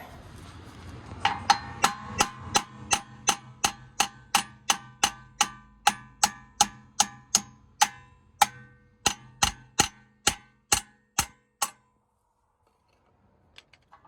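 Steady metallic hammer strikes on wheel studs of an Infiniti M35, around two dozen evenly spaced sharp blows ringing out, then a pause and a few light taps at the end.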